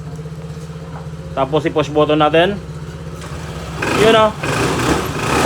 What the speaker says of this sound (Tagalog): umandar yung motor ni boss